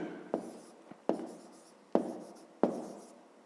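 A pen writes by hand on paper while a fifth-grade maths exercise is worked out, giving four quiet, sharp strokes spaced under a second apart, each fading quickly, with a fainter tick between the first two.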